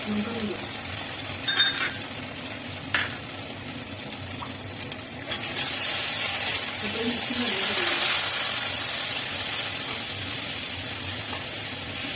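Ghee hits a hot pan for a shukto dish, and a broad hissing sizzle swells partway through and holds steady, with a few faint clinks before it and speech-like sounds in the background.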